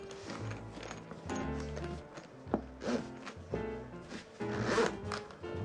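Zipper on a KBDFans KBD67 Lite keyboard carrying case pulled close up in several short, rasping bursts with brief pauses and uneven catches.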